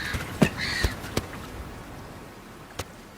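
A hungry juvenile gannet, found abandoned on a beach and now in wildlife care beside penguins, gives a few short, harsh calls at spaced intervals over a faint background hiss.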